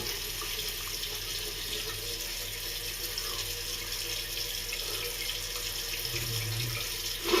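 A tap runs steadily into a sink as the face is wet before shaving, an even close rush of water with a slight splash near the end and no talking.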